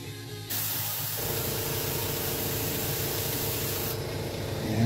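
An airbrush sprays paint onto rivets in a steady, close hiss that runs continuously after a brief start, with no talking.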